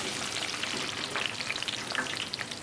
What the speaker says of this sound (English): lower the chips into the oil.